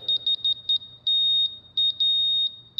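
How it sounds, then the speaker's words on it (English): A laser level's remote receiver beeps in short, clear bursts as it catches the leveling signal, with irregular clusters of quick beeps and several longer sustained tones, close and loud over a quiet background. "it'll beep solid when the line or the signal gets"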